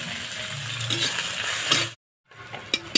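Taro leaves fry in oil with garlic and black cumin, a close, busy sizzle with rattling stirs and scrapes, cut off by a brief silence before the frying resumes with a few sharper knocks.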